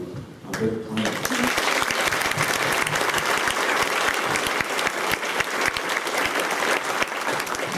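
Parents at a school celebration assembly break into loud, sustained clapping that fills the hall, dense and even throughout after a brief voice at the start.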